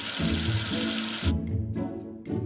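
Water runs steadily from a tap for a couple of seconds, then cuts off, leaving a few drips and light splashing; close by, no voices.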